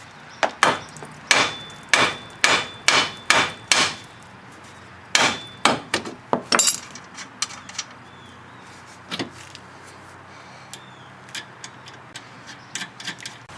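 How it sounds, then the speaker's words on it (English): A hammer strikes the steering knuckle of a 1999 Pontiac Grand Prix to free a tie rod joint, a close series of sharp metallic blows in two quick bursts, then scattered lighter taps. "now we're going to loosen this nut and hit what the joint goes through."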